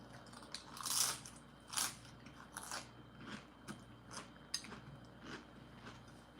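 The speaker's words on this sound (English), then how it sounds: "hear that crunch?" Crunchy nachos being bitten and chewed close to the mic, with sharp crunches near the start and then a run of softer, irregular chewing crackles, quiet and intimate with no talking.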